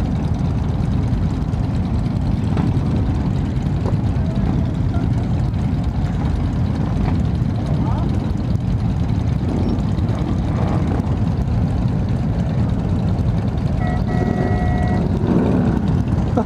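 A group of Harley-Davidson motorcycles riding together on a charity ride with a police escort, a loud continuous engine roar and rumble from the surrounding bikes, with a few faint beeps near the end.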